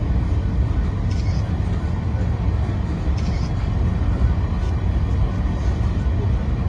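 A fully loaded 30-wagon freight train rolls past with a steady, dense rumble that stays loud and unbroken throughout, without clear wheel clicks.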